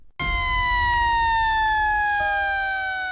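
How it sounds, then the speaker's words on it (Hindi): A loud, steady police siren wails alone, its tones sliding slowly downward over about three seconds, set in a tense night story outside a warehouse. "अचानक एक तेज सायरन ने तनाव भरी खामोशी को चीर दिया।"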